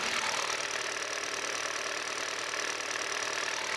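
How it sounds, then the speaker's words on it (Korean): A Hyundai Avante CN7 engine idles up close with the hood open, a constant, even mechanical clatter and hum, steady throughout with no talking. "엔진 룸 열어놨고요. 엔진 소리 한번 들어볼게요."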